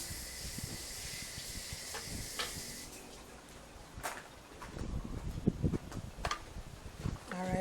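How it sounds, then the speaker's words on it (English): Steam hisses steadily as a pressure cooker holding Jamaican hominy corn porridge is opened, a broad continuous rush with clicks and clatter over it, close and fairly loud. "I'm going to put it on it as soon as I open the pressure cooker"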